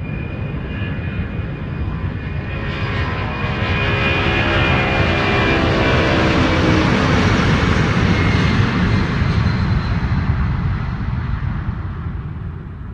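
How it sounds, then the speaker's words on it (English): Cargo aircraft engine from the old version of the video game Landscape: a loud, steady broadband roar with tonal whine that swells in the middle and eases slightly toward the end, heard alone. "Cargo aircraft."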